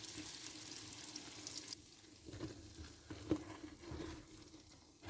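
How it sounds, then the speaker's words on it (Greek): Feta-filled buns frying in hot oil, a steady close sizzle and crackle that runs throughout, with occasional stirring scrapes and pops as the dough browns. "Θέλουμε έτσι λίγο να σκουρίνει, να χρυσίσει, δεν χρειάζεται πολύ τηγάνισμα"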